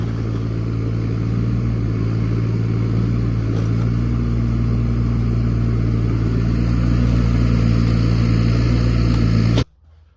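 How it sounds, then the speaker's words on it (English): A wire wheel strips the back panel of a Nissan Skyline R33, giving a loud, steady whirring grind with a scratchy hiss that runs unbroken for several seconds and then cuts off abruptly. "So this back panel is going to be the last bit of wire wheeling on the Skyline."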